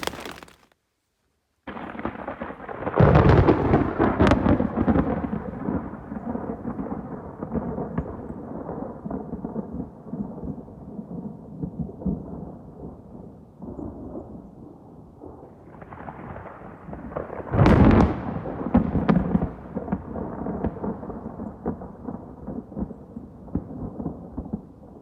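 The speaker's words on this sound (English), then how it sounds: "the lightning and thunder has been striking pretty suddenly, and a little bit too close for my comfort" Thunder from a nearby storm cracks sharply, then rolls and rumbles for many seconds before a second close, sudden crash booms and fades into a long, heavy rumble.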